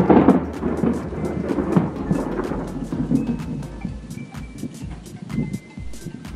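Rolling thunder rumbles through a heavy thunderstorm, a loud low roar fading into distant grumbles while steady rain patters and sharp raindrops tick throughout.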